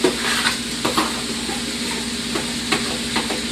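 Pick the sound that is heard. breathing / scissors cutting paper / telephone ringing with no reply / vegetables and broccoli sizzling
vegetables and broccoli sizzling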